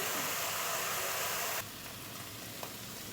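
Paneer pieces fry in a pan for aloo matar paneer, a soft, even hiss of sizzling oil that drops to a quieter level after about a second and a half.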